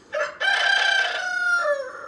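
A rooster crows once, a clear and fairly close cock-a-doodle-doo with a short lead-in note and a long sustained call, heard alone with no talk.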